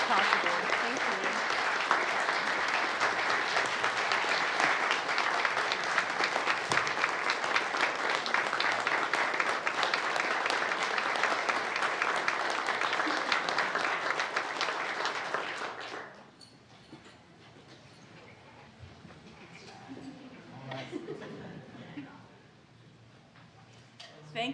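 Sustained round of applause from a crowd at a school board meeting honoring parents and volunteers, loud and steady for about sixteen seconds, then cutting off abruptly to quieter room noise.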